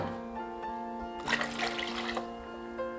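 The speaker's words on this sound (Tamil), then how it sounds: "இது கூடயே தேவையான அளவுக்கு தண்ணி சேர்த்திக்கலாம்" Water pours briefly into a pot of rasam, a splashy rush lasting about a second beneath a steady background hum.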